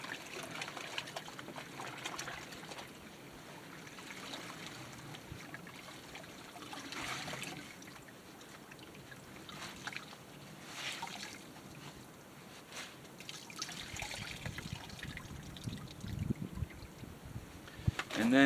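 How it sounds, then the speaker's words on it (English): Shirt being hand-washed in buckets of cold soapy water, with soft, uneven sloshing and trickling that carries on steadily at low level against a quiet background. "I will take one bucket here with soap and water in there, and then this is my rinse bucket."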